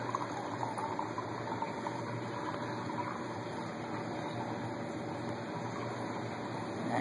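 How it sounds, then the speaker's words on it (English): Steady gurgling and rushing water from the overflow of a 120-gallon saltwater reef aquarium, a constant close churning wash with no pauses. "The overflow is a little loud."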